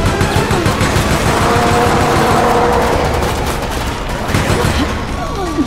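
Rapid automatic gunfire in Resident Evil: Operation Raccoon City, loud dense bursts of shots close up with booming echoes, continuing throughout.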